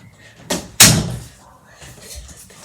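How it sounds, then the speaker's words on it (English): A door in a home shut firmly, heard as two close thumps: a lighter knock, then a loud slam with a short ringing decay, followed by faint room noise and murmur. "I can shut this door."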